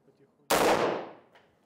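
A single AR-15 rifle shot fired into an AK-74 target, one loud close blast with a sharp onset that decays over about a second, with no talk.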